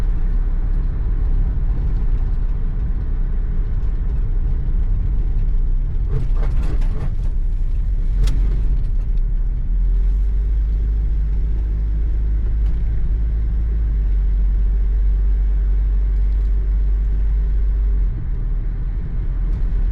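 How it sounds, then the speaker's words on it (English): A steady low engine rumble from a 1983 Toyota pickup truck with a four-cylinder engine driving slowly through a neighborhood, with some mechanical rattling midway and constant road drone, close and loud. "I just love the sound of this truck. It's a four-cylinder truck"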